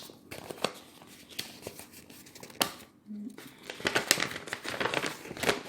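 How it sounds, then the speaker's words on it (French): A paper instruction leaflet from a home HIV test kit being unfolded, close crinkling and rustling in uneven bursts that grow busier toward the end, with a brief murmur of voice. "Je vais ouvrir la notice."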